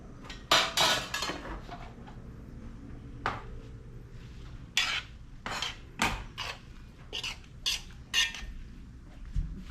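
Spoons and forks clatter against plates and dishes at a birthday meal, in a series of sharp, irregular clinks and scrapes, some loud and close, separated by quieter gaps.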